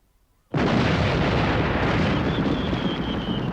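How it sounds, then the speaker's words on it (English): Cartoon fireworks burst into one sudden loud explosion that becomes a sustained, dense roaring blast, close and overwhelming, with no voices over it. "Fireworks? That's right, and big, beautiful ones, too."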